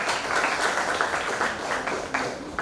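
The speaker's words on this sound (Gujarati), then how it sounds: "હેતલબેનને જોરદાર તાળીઓથી વધાવીએ." Audience applause welcoming an author to the stage at a book launch event, a steady wash of many hands clapping close and full, with a few sharper claps standing out, no voices over it.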